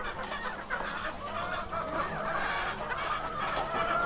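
Chickens cluck continuously inside a farm chicken coop, a busy overlapping chorus of fairly close, moderately loud calls with no talking.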